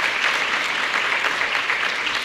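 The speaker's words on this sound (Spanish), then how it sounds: "les pido que le brindemos un aplauso y un feliz cumpleaños" An indoor audience claps for a birthday at an official session, dense sustained applause from many hands at even volume throughout.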